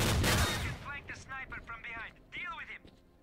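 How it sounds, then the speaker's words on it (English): A loud burst of gunfire opens, from the PC shooter game S.T.A.L.K.E.R.: Clear Sky, followed by rhythmic clatter and bursts of game sound that fade under a voice talking. "I don't even care if you start shooting right now."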